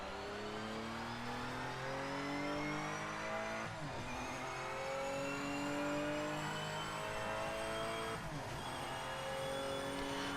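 A Porsche race car engine in a historic racing video game revs steadily and loudly, pitch climbing through gears with shift drops around every four seconds, sustained and close with no talking.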